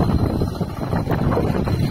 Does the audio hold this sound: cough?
no